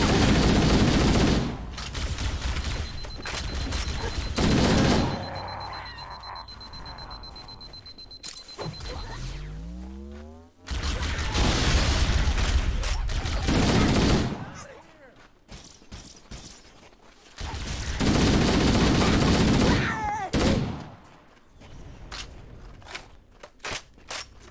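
Gunfire in Halo: Combat Evolved erupts in several long, loud bursts of rapid shots, separated by quieter gaps where a voice talks.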